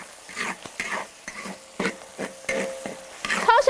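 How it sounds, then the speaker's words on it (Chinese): Chopped chili is stir-fried with garlic in a wok, close and loud. A spatula gives repeated rhythmic scrapes and tosses over a continuous oily sizzle. "剁椒稍微炒一下了之后，下点泡椒哈"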